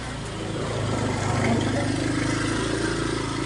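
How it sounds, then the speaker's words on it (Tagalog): A nearby motorcycle engine runs steadily with a mid-pitched hum that rises slightly as it revs, heard on a rough uphill road alongside an e-bike, continuous throughout with no talk. "mayroong motor sa likuran ko"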